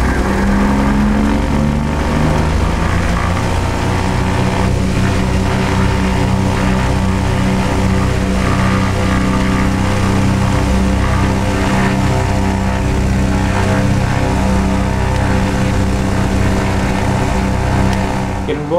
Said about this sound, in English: It involves me running up the engine and checking the various engine indications.